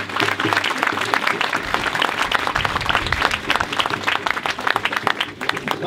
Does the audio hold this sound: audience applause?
yes